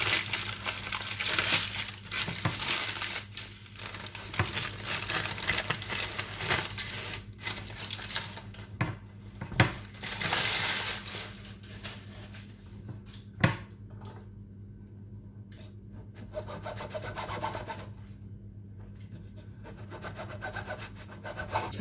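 A knife saws through a loaf of whole wheat walnut bread that has rested half an hour after baking, giving a close, steady crinkling rasp of crust with a few sharper crackles.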